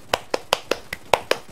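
Seven sharp hand claps ring out at an even, quick pace, close and fairly loud, with nothing else sounding between them.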